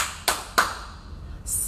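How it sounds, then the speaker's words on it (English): Two sharp hand claps about a third of a second apart in a children's action song, close and clear, with a faint high tone after them. "clap your hands"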